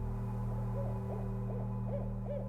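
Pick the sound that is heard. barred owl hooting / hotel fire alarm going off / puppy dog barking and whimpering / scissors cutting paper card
barred owl hooting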